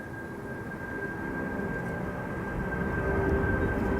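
Cargolux Italia Boeing 747-8 freighter, a 17-year-old airframe, climbing out after takeoff from Amsterdam Schiphol's Polderbaan runway: a steady, rumbling engine roar with a faint tonal whine, heard from a distance and slowly growing louder.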